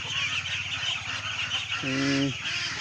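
Month-old hungry ducklings calling together, a close chorus of repeated honking and peeping notes over a busy background, with one louder drawn-out call standing out near the end.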